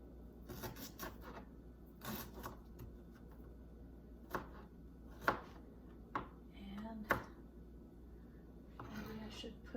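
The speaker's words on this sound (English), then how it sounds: "I'm just gonna chop it up however it goes." A knife chops a head of broccoli on a cutting board in a home kitchen, giving uneven bursts of sharp, close taps and crunches with short pauses between them.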